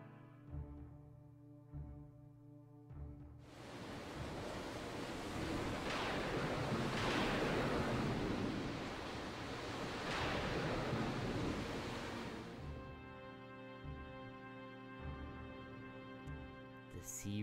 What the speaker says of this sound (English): The sea raged.